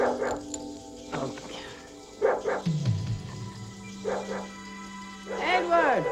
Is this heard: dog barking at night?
yes